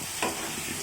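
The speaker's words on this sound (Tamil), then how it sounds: "போட்டு நல்லா மிக்ஸ் பண்ணிக்கோங்க" Bitter gourd stir-fry with sambar powder is stirred in a pan, giving one quick scraping stroke over a soft background sizzle, brief and close.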